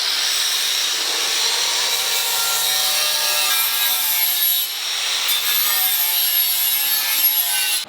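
A grinder sharpens a piece of metal clamped in a vise, giving a continuous, loud, high-pitched abrasive whine that holds steady for several seconds, close by, with no talking.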